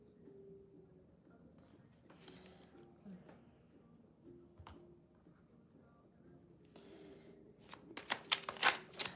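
Tarot cards are handled and shuffled, with soft slides and taps under a faint background hum, ending in a quick burst of crisp riffling clicks.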